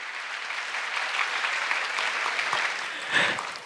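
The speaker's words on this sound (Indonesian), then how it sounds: "Beri tepuk tangan yang paling meriah Bapak Ibu." An audience at a Bank Indonesia Kediri sharia economic festival event gives a round of applause. The clapping is fairly soft and diffuse, as if heard from a distance in a hall, and swells briefly near the end.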